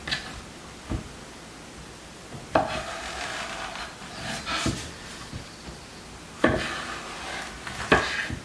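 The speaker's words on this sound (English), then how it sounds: "I'm going to cut them in half long ways" A knife cuts through vegetables lengthwise on a wooden cutting board, with several separate sharp thunks and brief slicing scrapes spaced a few seconds apart, close and fairly clear, with no talk.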